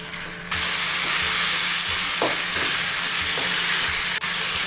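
Tomatoes fry in hot oil with a loud, steady hiss of sizzling that starts abruptly and holds strong, broken by a few soft scraping stirs of a spoon in the pan.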